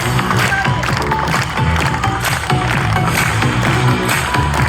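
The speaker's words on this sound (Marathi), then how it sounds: "त्याला टाळ्या झाल्या पाहिजे।" Dense, continuous applause from a school audience at a Women's Day celebration at a girls' high school in Nandurbar, honouring a student's mother, steady and loud for the whole stretch.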